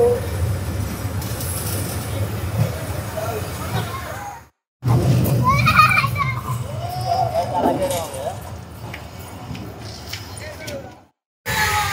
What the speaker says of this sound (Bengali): চলে এসেছে আমাদের ট্রেন।